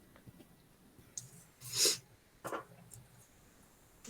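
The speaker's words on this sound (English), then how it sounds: "Was it a sneeze?" One sharp, forceful sneeze bursts out midway, preceded by faint breaths and small clicks and followed by a softer snort-like exhale, heard fairly close in a quiet indoor setting.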